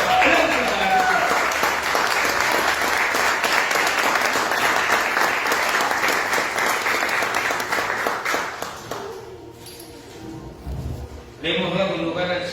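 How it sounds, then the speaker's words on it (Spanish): A congregation at a spiritual liberation workshop applauds for Jesus in a long, dense burst of clapping that lasts about nine seconds, then thins out as a voice starts to speak. "Un aplauso para Jesús."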